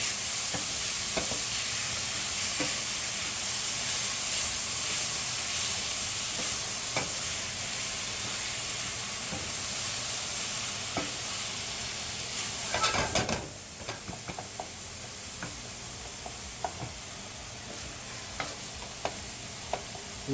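Tomatoes sizzle steadily in a frying pan while being stirred. The hiss is loud and close, with scattered clicks of the utensil and a brief clatter near the middle.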